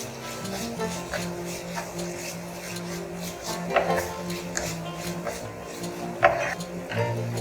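Salted rice being stirred in a pan for tawa pulao, soft scraping and scattered clinks of a spoon against the metal, faint and close, with a low hum underneath.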